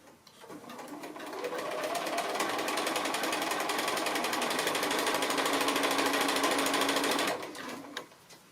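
A sewing machine chain-piecing quilt block pieces runs steadily for about seven seconds, a loud continuous motor whir with rapid needle chatter, then stops.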